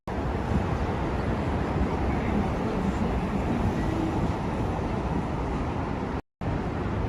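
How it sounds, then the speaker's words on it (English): New York City 1 subway train runs along an elevated track in Harlem, Uptown Manhattan, as a loud, steady broadband rumble and roar with no breaks, heard close by from street level. "That's the one train passing through."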